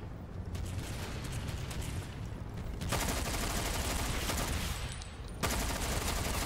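Gunfire from the video game Ghost Recon Phantoms: dense, sustained bursts of shots filling the whole stretch, growing louder and heavier near the middle and again at the end, with no speech over it.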